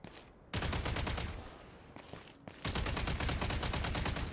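Rapid, continuous gunfire from cryo bullets in Genshin Impact, two sustained bursts of evenly spaced shots separated by a brief quieter gap, loud and close with no talking over it.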